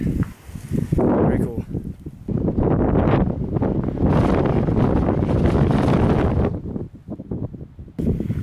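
Wind gusts across Guadalupe Peak, a mountain desert hiking summit in Texas, as loud, sustained rumbling buffeting against the microphone with brief lulls, close and steady throughout.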